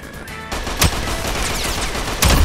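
Roblox shooting game gunfire, dense rapid shots crackling close and loud over a short burst, with a heavier report at the end.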